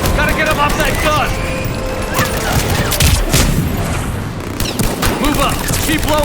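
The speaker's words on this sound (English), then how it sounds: "Enemy on the mounted gun! Gotta get him off that gun!" Mounted gun in Mass Effect 3 hammers out sustained automatic fire amid a dense battle mix of blasts and impacts, with shouted combat voices mixed in throughout.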